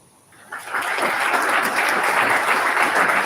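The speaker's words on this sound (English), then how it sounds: "So if you don't mind giving them one round of applause, I would appreciate it." A crowd at a port of entry graduation ceremony breaks into a round of applause for the graduates, the clapping swelling quickly after a quiet start and holding steady and dense to the end.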